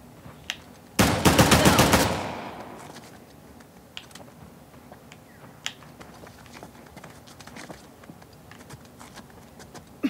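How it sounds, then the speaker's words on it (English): Silenced gunfire in the video game Uncharted: The Lost Legacy, a rapid burst of loud suppressed shots lasting about a second, followed by quiet game ambience with scattered faint clicks and footsteps. "Forgot I had the silenced gun"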